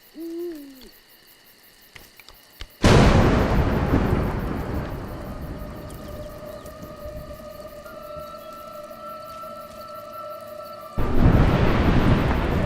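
Loud thunder crashing in the platform game A Juggler's Tale, starting abruptly with a sustained rumbling roar after a quiet wooden creak, then a second heavy crack near the end; no voices.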